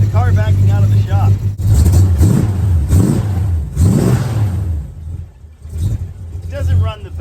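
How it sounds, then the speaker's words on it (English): A 1968 Plymouth Barracuda with a 318 V8 rumbles loudly nearby as it backs out of a shop, the engine idling unevenly with a few throttle blips rising and falling; no one speaks. "with the car backing out of the shop."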